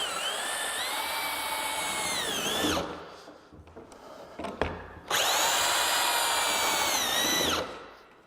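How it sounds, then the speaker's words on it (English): A power drill with a key drives the fittings that join Candock plastic floating dock cubes. Two long, loud whirring bursts rise and fall in pitch, separated by a few seconds of quieter clicks and handling. "I'm going to use the key for drill."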